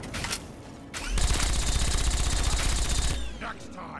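Rapid automatic gunfire bursts in Fallout 3, a dense loud rattle of shots lasting about two seconds, with brief sharper reports before and after.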